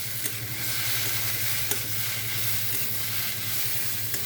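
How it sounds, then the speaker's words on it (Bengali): Okra (bhindi) sizzles steadily in a pan while being stirred, with a continuous close frying hiss and occasional soft scrapes of the spoon. "ভেন্ডি দিয়ে আমি সুন্দর করে কষে নেব"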